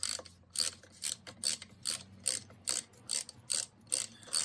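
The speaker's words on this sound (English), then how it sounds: "this is fine threaded, so it takes a while to unthread" A fine-threaded bolt being unthreaded on a KT 17 engine, heard as a steady series of about a dozen evenly spaced, close ratchet clicks with no talking.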